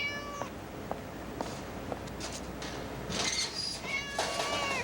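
A cat meows several times amid faint clicks and a low background hum, with a longer wavering meow near the end.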